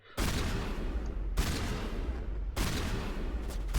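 Sustained automatic gunfire in Mass Effect hammers at a shield in three long, loud bursts separated by brief breaks.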